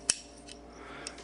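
A 1911 pistol's trigger pulled so the sear slips off the hammer, giving one sharp, close metallic click followed by faint small handling ticks, with no talk.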